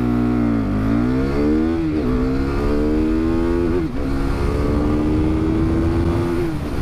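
A KTM RC 390 motorcycle launches hard from a standstill, its loud, close engine bouncing off the rev limiter twice with sharp dips before holding a high, steady buzzing pitch.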